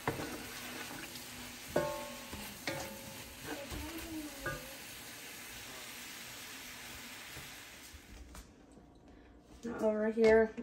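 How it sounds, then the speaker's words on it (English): Corn tortillas frying in a little olive oil on a griddle, a soft, steady sizzle running under kitchen clatter and someone talking, with a few clinks and a brief louder burst near the end. "I have a little bit of oil on my griddle because I'm using corn tortillas"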